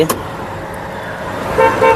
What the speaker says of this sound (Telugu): హార్న్స్ కూడా మంచి వర్కింగ్లో ఉన్నాయి